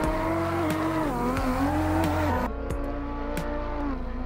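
Twin-turbo Maserati MC20 racing in Assetto Corsa, its engine note rising and falling through shifts, steady and close, with a sharp drop in intensity partway through as revs fall.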